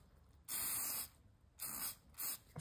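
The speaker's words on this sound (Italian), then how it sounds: "mettiamo un po' di spray al silicone" Silicone spray applied to a sliding gear of a vintage fishing reel: three short close hissing bursts, the first longest, separated by quiet pauses.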